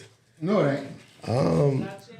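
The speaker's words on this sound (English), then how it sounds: "That's my dog." A dog lets out two drawn-out, whining vocalizations, part whimper and part low growl, close by. A person speaks briefly alongside them.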